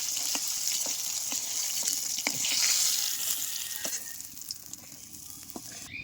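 Pieces of a large catla fish fry in hot oil, giving a steady, fairly loud crackling sizzle with scattered sharp pops and spits throughout and no voices.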